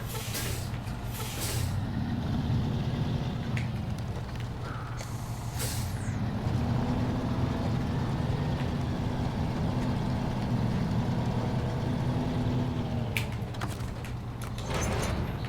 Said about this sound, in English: Now then, I have to detach this trailer.